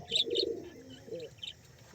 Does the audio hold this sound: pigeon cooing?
yes